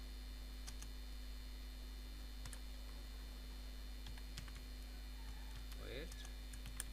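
Keys tapped on a computer keyboard while writing in a code editor, sparse, faint clicks spaced irregularly over a steady electrical hum, with a faint voice murmuring near the end.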